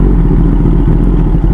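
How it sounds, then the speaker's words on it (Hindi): Heavily modified Kawasaki ZX-10R sport bike with carbon parts, engine running and revving continuously with a deep, loud, close exhaust note and a steady rumbling low pulse throughout. "पहले एक बार इसका एग्जॉस्ट नोट सुनो।"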